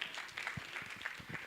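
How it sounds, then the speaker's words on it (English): A youth conference crowd claps in a round of applause, a soft steady patter of many hands heard from a distance, moderately quiet with a faint room hum beneath. "A round of applause for them."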